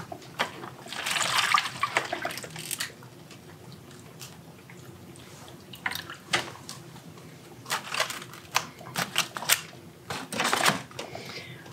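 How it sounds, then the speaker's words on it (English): Water poured into a seedling tray of broccoli and cabbage starts for bottom feeding, arriving as intermittent splashes and trickles in short bursts with handling noises between, close and fairly loud. "take one out and pour the rest of that in there"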